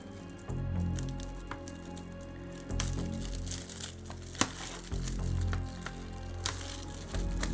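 Plastic packaging on an Amazon 4K Blu-ray order crinkles and crackles as it is pulled and torn open by hand, close by, with bursts of rustling and a sharp snap.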